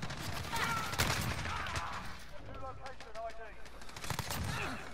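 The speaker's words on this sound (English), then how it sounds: "Oh, shotgun, dude." Shotgun fire in the video game Call of Duty: Modern Warfare, with bursts of gunfire and explosive cracks mixed into busy game noise, while voices talk over the action.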